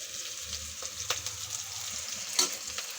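Vegetables being half-fried in a pan for a veg pulao, giving a steady, low frying hiss with a couple of brief stirring clicks, close and quiet.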